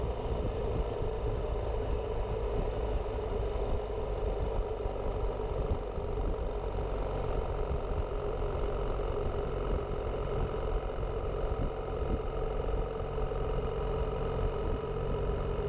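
A BMW R1300GS motorcycle engine hums at steady highway speed with active cruise control, a constant mid-pitched drone and vibration with wind rumble, continuous and even throughout.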